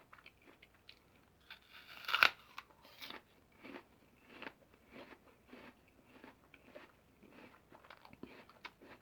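A Honeycrisp, SugarBee or Cosmic Crisp apple is bitten with one loud close crunch, followed by a run of softer rhythmic chewing crunches in a quiet room.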